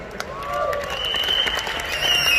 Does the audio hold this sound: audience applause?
yes